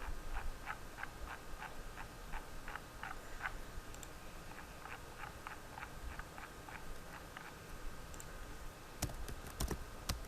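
A laptop keyboard clicks in short bursts of steady typing while paragraphs are entered in MS Word 2016, close and fairly quiet, ending in a few louder taps.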